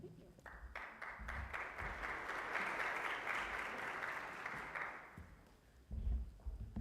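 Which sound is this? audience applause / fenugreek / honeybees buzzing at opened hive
audience applause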